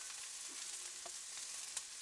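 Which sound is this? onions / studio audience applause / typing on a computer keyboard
onions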